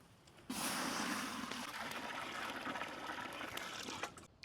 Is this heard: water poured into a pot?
yes